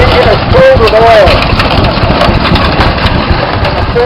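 An old oil pull tractor engine that starts on gasoline and runs on kerosene keeps up a steady loud idling chug at a harvest reunion show, with people talking over it.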